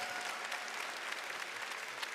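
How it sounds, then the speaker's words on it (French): An audience at a Saint-Joseph feast day gathering in the church of Saint-Sulpice, Paris, claps steadily for the men being honoured, a dense, even wash of applause with no voices. "On peut les applaudir aussi, ces messieurs, dans la fête de Saint-Joseph"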